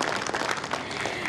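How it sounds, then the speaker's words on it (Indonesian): A debate audience claps for election candidate pairs, a lively crowd applause of many hands with uneven bursts throughout, fairly loud and without speech. "Kita berikan tepuk tangan meriah untuk pasangan calon nomor 4 dan juga 2."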